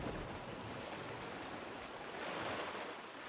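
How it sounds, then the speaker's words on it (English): Water splashing and rushing in the Once Human video game as a character jumps into water inside a bear cave, a steady broadband wash that runs loud and unbroken throughout with no voices. "jump in the water"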